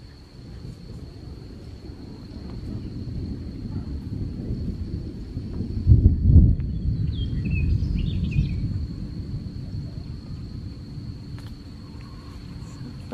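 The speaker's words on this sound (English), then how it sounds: "Like another storm might be coming." A summer thunderstorm rumbles with low, rolling thunder that swells to a peak midway and fades, set against steady cricket and insect chirring outdoors with light birdsong.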